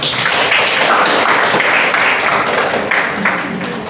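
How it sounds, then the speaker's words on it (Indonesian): Students applaud a classmate named Kartini during a vocational school class session, a steady wash of clapping from a room full of people, loud and continuous throughout, tapering off slightly near the end. "Tepuk tangan buat Kartini"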